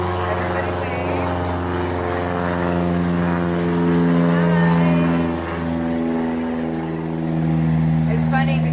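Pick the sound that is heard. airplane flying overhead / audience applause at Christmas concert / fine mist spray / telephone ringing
airplane flying overhead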